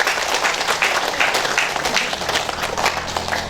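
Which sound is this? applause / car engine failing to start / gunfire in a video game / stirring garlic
applause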